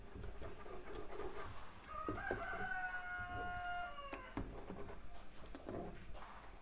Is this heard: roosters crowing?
yes